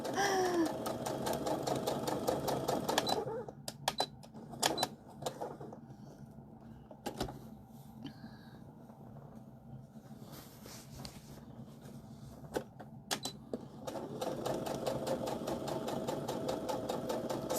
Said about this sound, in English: So what this top stitching does is just make your edges stay flat.